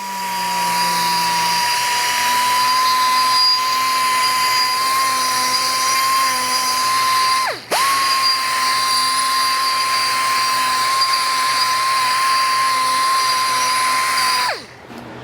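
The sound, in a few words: die grinder with burr cleaning driveline ends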